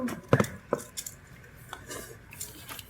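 Dishes and cutlery clatter during home cooking, with sharp metallic clinks and scrapes coming in scattered bursts, loudest near the start and fainter afterward.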